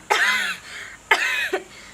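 A person with a cold coughs twice, two close, harsh bursts about a second apart with a short throaty tail after the second, alone and without talk.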